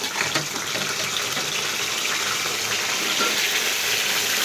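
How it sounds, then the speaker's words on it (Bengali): Boiled olives with their water poured into a pot, a continuous rushing gush of liquid that runs steadily and fairly loud for the whole stretch, no voices. "সিদ্ধ করা জলপাইগুলো দিয়ে দিচ্ছি"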